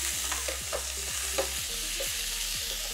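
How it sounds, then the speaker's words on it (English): Onions sizzle steadily in a pan for bolognese sauce, a constant close frying hiss broken by regular scraping stirs, with no voices. "We're gonna put the onions in, nice and sizzle up."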